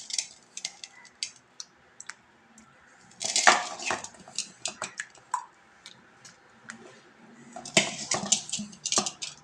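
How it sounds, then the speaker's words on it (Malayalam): Fish pieces go into a pot of raw-mango fish curry, giving light clinks and taps of pot and utensils scattered throughout, with a couple of louder clattering bursts; no one speaks. "ഇതിനകത്തേക്ക് മീൻ ചേർക്കുകയാണ് കേട്ടോ"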